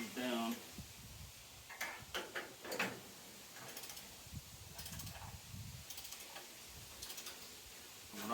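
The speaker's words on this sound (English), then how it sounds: "We'll torque these down." Torque wrench tightening hitch-mounting bolts on a 2008 Ford F-250 during a B/W Companion hitch install: repeated ratcheting clicks in short bursts, close and fairly faint, with someone talking in between.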